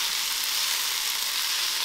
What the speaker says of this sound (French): Une fois que le wok est bien chaud, on va pouvoir mettre le poireau.